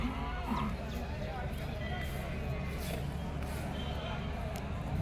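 Calves moo repeatedly at an outdoor cattle market selling young calves, heard amid steady crowd babble and nearby talk.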